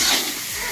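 Potatoes frying in oil in a pan for a home-cooked meal, a loud, close, steady hiss and sizzle with no break.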